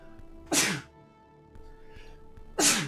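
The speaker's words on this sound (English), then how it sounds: "So I'm gonna sneeze." Two loud, close sneezes from one person, about two seconds apart, each a sharp explosive burst over quiet background hum.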